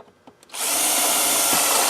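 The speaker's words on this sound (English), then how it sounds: "we'll drill this through to the 1/2 inch" Power drill boring a half-inch hole through a pull bar: a few faint knocks, then the motor bites in and grinds steadily and loudly to the end, close up with no talk.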